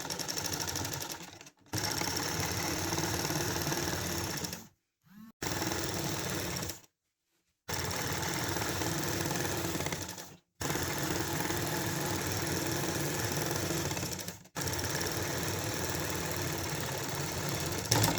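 A sewing machine runs in long continuous bursts while stitching petticoat panels together, a fast mechanical whirring chatter broken by several short pauses, close and steady, with no talk.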